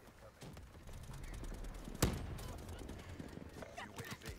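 Gunfire in the shooter game Black Ops 3, with one sharp, loud shot standing out in the middle of a busy, noisy battle mix.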